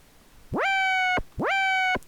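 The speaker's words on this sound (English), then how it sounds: "So that's pretty much the siren sound." Synthesized siren made in the Tunefish synth: two identical rising wails, each sweeping sharply upward, holding a bright harmonic tone for about half a second, then dropping away, close and clean.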